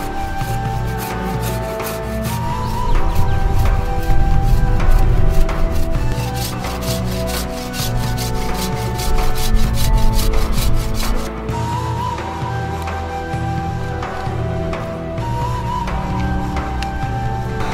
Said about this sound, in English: I'll remove wood nice and slow with the Shinto Rasp, and we'll start that process right now.